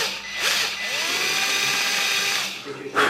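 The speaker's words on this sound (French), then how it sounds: "quand on perce, hein, on se met bien perpendiculaire" A power drill whines steadily as it bores a hole into a tube for a helicoil thread repair, a close, continuous drone with pitch shifts under a man's speech.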